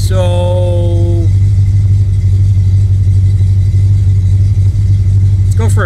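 A 1979 AMC AMX V8 with a carburetor idles slightly rich, a steady, loud low rumble held throughout with no revving, and a brief rattle right at the end.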